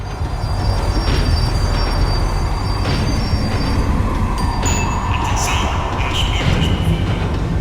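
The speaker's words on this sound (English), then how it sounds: "The tram was slowing down, and I'd only just gotten on board." A tram in the video game Max Payne 3 slowing down, with a loud continuous rumble of wheels on rails and high metallic squeals rising and fading as it brakes.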